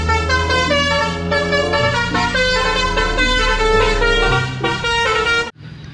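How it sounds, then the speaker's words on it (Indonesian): Toy telolet bus horn playing a loud, continuous multi-tone musical melody for about five seconds, then cutting off abruptly. "Wow, ini bus telolet atau bus oleng."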